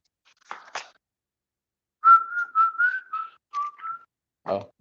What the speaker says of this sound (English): sorry if you guys hear me whistling randomly